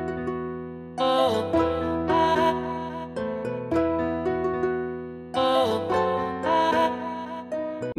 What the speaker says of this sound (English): So I've just added the vocals.